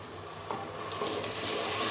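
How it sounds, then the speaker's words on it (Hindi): Garlic-ginger paste fries with browned onions in a pan, giving a close, continuous sizzle that holds steady with no voices. "अब मैं इसके अंदर लहसुन और अदरक का पेस्ट ऐड कर दूंगी"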